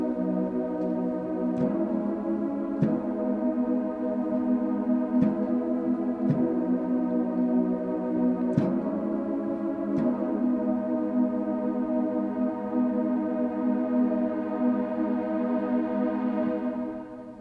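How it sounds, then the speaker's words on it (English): A lush Super Saw-style synth pad, shifted up an octave, holds wide sustained chords on a keyboard, with a few soft chord changes marked by faint attacks, steady and loud throughout before tapering off at the end. "which is this Lush Super Sol pad."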